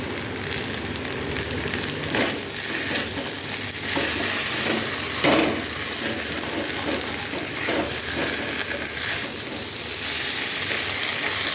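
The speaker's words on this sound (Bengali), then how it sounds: "এবার এর মধ্যে এই ভেজে রাখা সবজিটা দিয়ে দেবো।" Fried bitter gourd, vegetables and bori stirred into a thick reduced spice paste in a hot pan for malai shukto, a steady close sizzle with scraping stir strokes and no talk.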